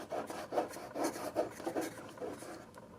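A fingertip rubbing paint overspray off a GTI car, a series of soft, close rasping strokes in quick rhythm that fade toward the end, with no talking.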